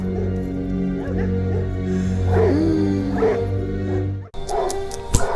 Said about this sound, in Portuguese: Olha o cachorro falando, tem alguém na casa.